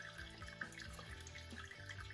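Water trickles steadily through grain during all-grain, no-boil brewing of a mango pale ale kit, a faint continuous running sound with no talking over it.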